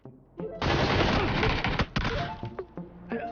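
Gunfire in the online shooter Ring of Elysium: a few sharp single shots, then a dense, sustained burst of rapid automatic fire, trailing off into scattered individual shots and thuds.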